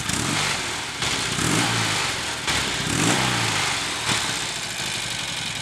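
Norton Commando 850 motorcycle engine idling during early recommissioning, a steady low rumble with a slightly uneven, pulsing beat that holds loud and close for the whole stretch, with no talking.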